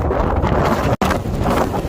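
Strong wind on Pico Viejo, Tenerife, roars in loud, continuous broadband gusts buffeting the microphone, with one very brief dropout near the middle and no voices.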